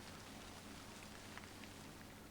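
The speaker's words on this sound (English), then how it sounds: "All that remained was the sound of the rain." Steady rain falls in a scene from the visual novel Hashihime of the Old Book Town, a soft even hiss with faint scattered drops, quiet and unbroken throughout.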